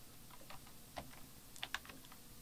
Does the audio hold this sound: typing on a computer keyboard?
yes